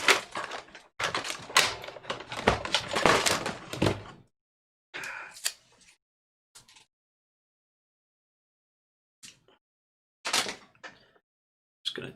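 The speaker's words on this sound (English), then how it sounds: "Gonna tape right on over these so I don't put anything in them" Adhesive tape is ripped from a roll and pressed over the front-panel USB 2 ports of a computer case, a dense crackling burst at first, then a few short separate tears and pats, close by with no talking.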